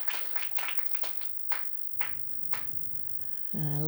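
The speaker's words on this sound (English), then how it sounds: "Big hand for Ben." A small audience applauds, with a handful of separate claps at first that thin out to single scattered claps.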